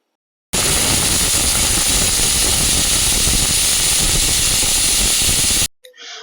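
A pressure cooker boiling potatoes lets out one long, loud, steady steam whistle and hiss that runs unbroken for about five seconds, then cuts off, leaving a brief faint sound.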